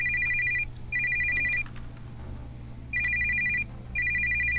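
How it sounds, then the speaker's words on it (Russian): Electronic telephone ringing in the video game Hotel Royal: two bursts of a rapid trilling ring, each about a second long, separated by pauses over a low steady ambient hum, loud and close with no speech. "Беспросветную тишину прерывает резко раздавшийся телефонный звонок"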